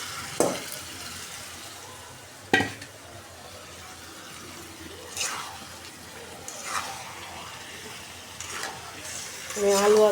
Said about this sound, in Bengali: মশলাটা কষানো হয়ে গেছে, এখন আমি গোস্তগুলো দিয়ে দেবো।